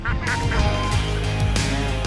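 Ducks herded through water and mud in rural Java, their loud honking quacks overlapping continuously as the flock is chased along.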